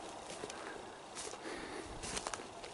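Loose farm goats walk around an area split by electric fence, their hooves giving faint, scattered clip-clop steps and soft patter against a quiet outdoor background.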